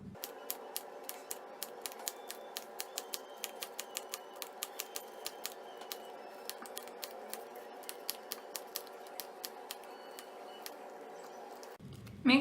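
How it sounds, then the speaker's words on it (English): Scissors snip through a folded strip of craft paper about 18 by 5 centimeters, a fast irregular run of crisp short cuts close up and fairly quiet, with no talk. "fold it into half, and let's cut about 2 centimeters inwards"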